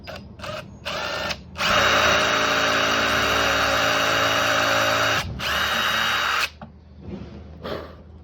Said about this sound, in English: now that I have all that drilled